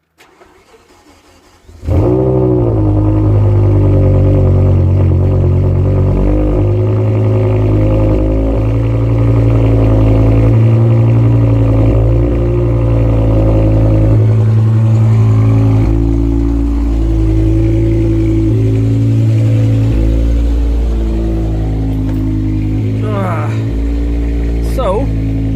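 A BMW E60 M5 with a faulty shift paddle cranks and fires up after a quiet start, then settles into a loud, close idle with several rises and dips in revs and a few faint clicks near the end.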